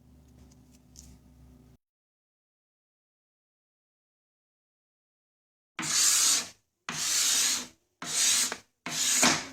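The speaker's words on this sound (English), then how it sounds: "on the belt sander, I just went through and just slowly went and curved them over until I was happy with them" A belt sander rounds over the angled finger joints of a wooden octagonal tray in four loud, sustained rasping passes separated by short gaps, following a quiet stretch of faint low hum and then silence.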